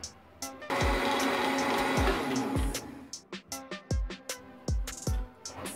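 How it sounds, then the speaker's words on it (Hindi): A blender whirs loudly through falsa fruit and Rooh Afza for about two seconds, then stops, followed by a run of hollow knocks and clunks from the jug. "ये ब्लेंड हो गया, जग को उतार लेंगे"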